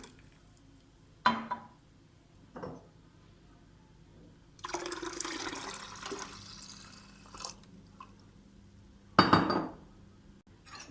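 A spoon stirs homemade lemonade of lemons, orange, sugar and water in a container. A few sharp, separate clinks of metal on glass ring out, with a stretch of sloshing, swirling liquid in between. No one speaks.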